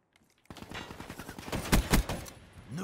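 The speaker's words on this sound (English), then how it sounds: "Are you trying to shoot me?" Video game gunfire, a rapid burst of automatic shots that builds into louder bangs, fairly close, with no speech over it.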